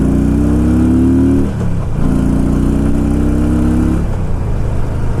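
A 2005 Harley-Davidson Ultra motorcycle engine rises in pitch as it accelerates, dips briefly near the two-second mark, then climbs again in a second strong pull; loud, close and steady, with no voices.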